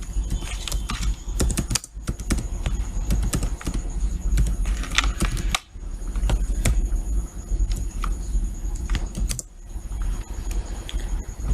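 Steady rapid clatter of typing on a computer keyboard, keystrokes close and distinct with brief pauses, a low hum in the background.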